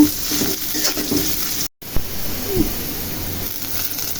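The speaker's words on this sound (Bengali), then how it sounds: "পেঁয়াজ কুচি দিয়ে দিব এর মধ্যে পেঁয়াজটা একটু হালকা ভেজে নিব" Chopped onion sizzles in hot oil in a pot while cooking a mutton head curry, a steady close frying hiss with a brief dropout and a few stirring clinks.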